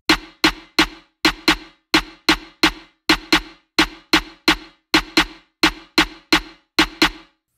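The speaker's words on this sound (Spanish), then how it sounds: "esta es la clave cubana del son" A Cuban son clave pattern sounds as sharp, close percussive hits in a repeating syncopated rhythm inside a funk carioca beat, with no voices.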